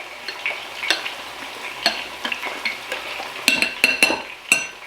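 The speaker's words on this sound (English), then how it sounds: "Give this a little stir." Diced onions stirred in a pot for a Guinness pot roast, with a soft sizzle of frying under scattered utensil scrapes and sharp metallic clinks against the pot, close and without talking.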